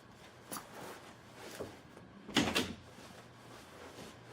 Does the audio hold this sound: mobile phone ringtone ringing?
no